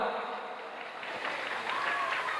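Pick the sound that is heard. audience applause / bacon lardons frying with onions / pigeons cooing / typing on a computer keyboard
audience applause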